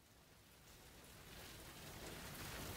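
Steady rain from the interactive fiction game Anchorhead hisses in a dense wash of noise, slowly growing louder, with no voices.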